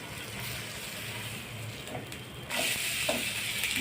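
Spring onion uttapam frying in oil in a covered pan, a steady soft sizzle with a faint crackle that grows a little louder and brighter partway through.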